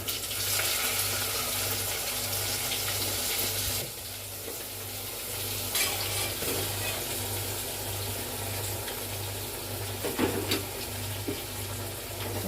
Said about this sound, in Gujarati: હવે આપણે કારેલા નાખી દઈએ